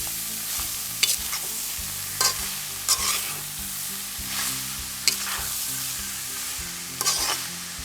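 Jaffna-style goat blood fry with chillies is stirred in a dry pan, giving a steady sizzle broken by repeated scraping strokes of the spoon at an irregular pace, close by and with no talking.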